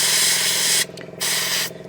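An airbrush sprays paint onto a 1/72 scale Bandai Y-Wing model in two loud close hissing bursts, each under a second, separated by a brief pause.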